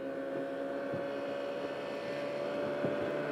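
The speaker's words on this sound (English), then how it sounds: "Motor's running great." A Mercury Mark 55 outboard motor runs on a boat, giving a steady, droning engine hum with a constant tone and faint periodic knocks throughout, with no voices.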